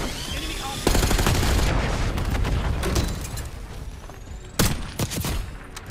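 Rapid automatic gunfire from the Call of Duty Black Ops 6 video game, with loud, dense bursts throughout and sharper shots near the start and toward the end, with no talk.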